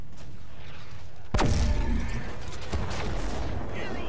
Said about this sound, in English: Fire that cannon